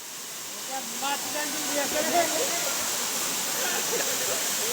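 Kalmandavi waterfall pours with a constant, loud rushing hiss, while people's voices talk and call over the steady roar of falling water.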